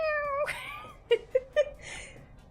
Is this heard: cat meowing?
yes